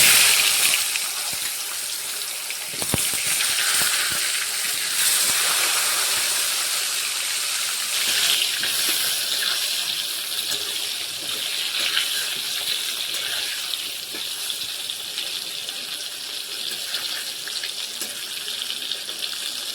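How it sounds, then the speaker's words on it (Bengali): Pieces of brinjal fry in hot oil with a pinch of turmeric, making a loud, steady, hissing sizzle that lasts throughout with slight variations, and no voices. "এবারে বেগুনগুলো ভালো করে ভেজে নেব।"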